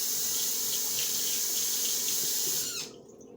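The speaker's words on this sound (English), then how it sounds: "rinse my hands so I can do another one" A kitchen tap runs in a steady, close hiss as hands are rinsed under it, then it shuts off near the end, leaving a faint quiet room tone.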